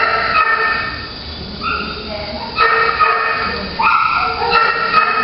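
A one-year-old, 60-pound high-energy dog yips, whimpers and gives short high barks, loud and close, in repeated bursts over a noisy background that sounds like a kennel or shelter.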